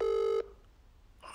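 A single telephone dial tone sounds loudly for a moment, then cuts off, leaving quiet line noise before another faint electronic tone begins.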